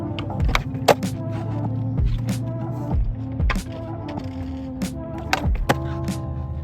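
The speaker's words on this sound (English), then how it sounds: "All right, it's ollie time." A skateboard makes repeated hard wooden thunks and rolling clatter during an ollie attempt on a board, with sharp pops and impacts every second or so. The sounds are close and fairly loud, with no voices over them.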